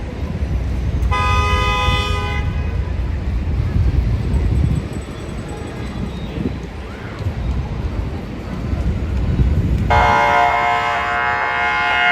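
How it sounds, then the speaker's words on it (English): An electric police vehicle on a New York City street sounds its horn in two long, steady honks several seconds apart, loud and close above rumbling traffic noise. "That was an electric police vehicle."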